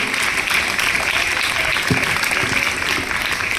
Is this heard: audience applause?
yes